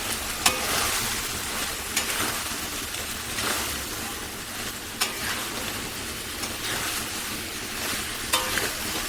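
Cauliflower and potato fry and get stirred in a pan in a Bengali home kitchen: a steady low sizzle with scattered spatula scrapes and clinks, fairly close, with no talking.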